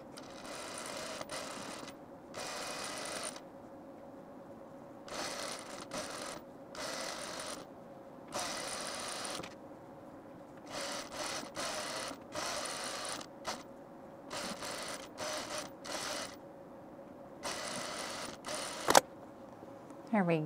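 Sewing machine stitching a blouse hem, running in repeated bursts of rapid mechanical whirring separated by short pauses, close and fairly quiet, with a sharp click near the end.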